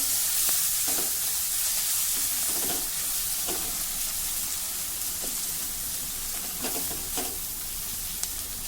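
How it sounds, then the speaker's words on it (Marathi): Onion and a large tomato stir-fry in a pan, a dense steady sizzling hiss filling the background while a spatula periodically scrapes and taps through the mixture. "या टोमॅटो सोबत आता आपल्याला हे व्यवस्थित परतवायचं आहे"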